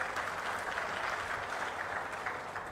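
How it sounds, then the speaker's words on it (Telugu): Crowd applause at a Narasannapeta public meeting addressed by CM Chandrababu Naidu, a continuous wash of many clapping hands, steady and fairly loud throughout. "గట్టిగా చప్పట్లు కూడా చెప్పండి."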